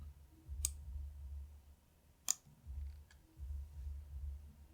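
Mouse clicks while setting up ChromeOS Flex in a QEMU virtual machine: two sharp, isolated clicks about a second and a half apart, with a fainter third click later, over a quiet low hum.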